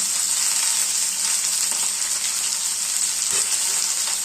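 Snake gourd frying in a pan, a dense, continuous hiss of sizzling oil with faint stirring scrapes, close and steady.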